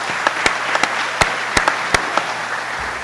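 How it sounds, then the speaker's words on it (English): Attendees at an electric cooperative's annual meeting give a round of applause, a moderate steady patter of clapping across a large room with several louder individual claps popping out, no speech over it. "really give them another round of applause"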